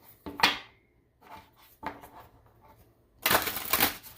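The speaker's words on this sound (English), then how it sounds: "Nice shuffle." Tarot cards are shuffled in short bursts, a few papery riffles and clattering slaps spaced apart, closing with a louder, longer riffle near the end, nearby and without talk.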